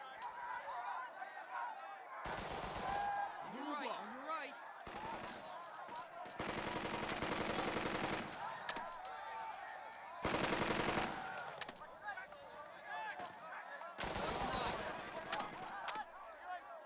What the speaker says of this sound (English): No, only machine gun is selected.